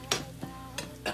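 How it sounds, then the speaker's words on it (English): A spoon clinking and scraping through a bowl of canned chicken mixed with onion and garlic powder, four quiet, separate knocks spaced unevenly across about a second, with no voices. "Now let's stir this up."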